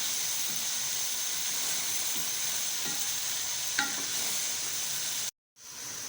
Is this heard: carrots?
yes